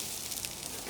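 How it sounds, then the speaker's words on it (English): Chopped onions hit shimmering hot oil in a pan while a Thai coconut chicken curry is being cooked, giving a steady, close, even sizzling hiss that runs throughout with no talk. "Onions sizzling."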